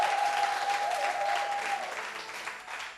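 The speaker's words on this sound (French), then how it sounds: "Vous pouvez vous applaudir." An audience claps during a French-language FM radio show, a dense, even patter of hands that fades slightly toward the end, with a faint sustained tone at the start.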